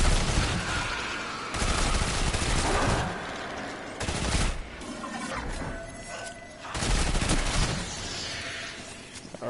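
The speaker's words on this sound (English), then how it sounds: "I think I'll waste some more ammo with a 41 magazine size." Bursts of rapid gunfire from a 41-round magazine weapon in the shooter game Destiny 2, loud repeated volleys separated by brief pauses, with game effects in between.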